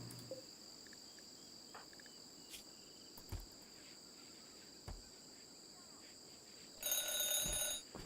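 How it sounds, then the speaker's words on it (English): An alarm clock in the colony game Rimworld rings out near the end as a brief bright electronic chime burst, following a stretch of chirping crickets and faint night ambience with a few soft clicks. "I should change the alarm clock sound to just a ding dong."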